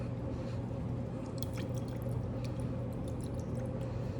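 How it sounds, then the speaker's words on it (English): Distilled water trickles and drips while a lab beaker is rinsed, faint scattered drips over a steady low background hum. "I'm going to clean it with distilled water"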